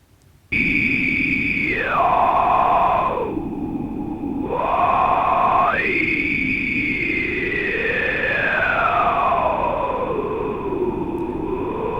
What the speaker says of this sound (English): moving the mouse around in vowel space with a static sound source filtered through vowel formats